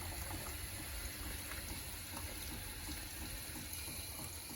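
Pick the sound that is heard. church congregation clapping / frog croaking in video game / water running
water running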